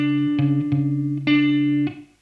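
Palm-muted electric guitar riff, with muted plucks on the fifth string and accented notes on the third string in a short repeating pattern, played close and clear before ringing out and fading.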